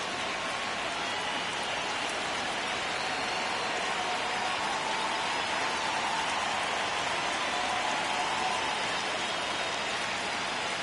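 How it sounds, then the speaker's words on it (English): Heavy rain pours down in the baseball video game MLB The Show 26, a dense, even hiss of downpour that stays constant and loud throughout with no voices. "It's pouring down rain"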